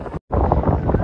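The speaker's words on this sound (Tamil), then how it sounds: "காற்று ரொம்ப அடிக்க" Strong wind buffets the microphone at an outdoor cricket ground during a tournament match, a loud continuous rumbling roar broken by a brief dropout.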